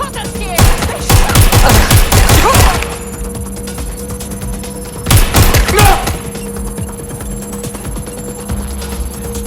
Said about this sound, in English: Taking fire! I'm getting shot at here!